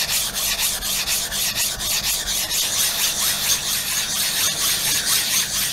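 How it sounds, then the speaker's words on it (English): A DMT diamond plate scrubs back and forth across a whetstone to flatten it, a continuous gritty rasping rub in an even rhythmic stroke, close and fairly loud with no speech. "I like to use my DMT to clean the surface of the stone off really well and prepare it for sharpening."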